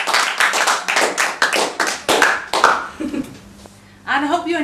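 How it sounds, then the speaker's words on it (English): Clapping from a studio audience for a quiz winner on a comedy show, about a dozen loud, close, rhythmic claps, then a pause and a burst of voices talking. "A round of applause, please, for Julia!"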